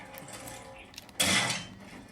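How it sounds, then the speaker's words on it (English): A mega crossbow fires in an audio-only video game as one sharp, loud burst of noise, with quieter clicks and mechanical taps before it. "So that was the sound of my mega crossbow."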